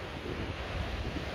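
Sea waves and wind, a short, even wash of surf with gusty wind buffeting the microphone, steady and moderately loud, no voices.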